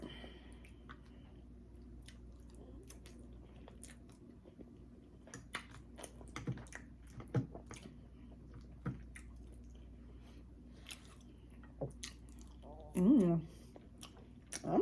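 Close, wet chewing and swallowing of salmon spinach tortellini pasta, with soft squishy mouth sounds, scattered clicks and a brief vocal murmur near the end.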